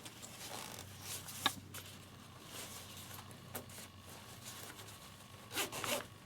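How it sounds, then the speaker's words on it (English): Zips being pulled closed on a handmade sewn fabric bag, a few short quiet rasping zipper runs with brief pauses, close by and faint, no talking. "all that happens now is I zip up my zips"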